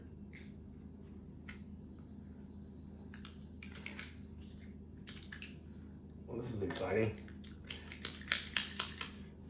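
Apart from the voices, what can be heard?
mincing food in a hand mincer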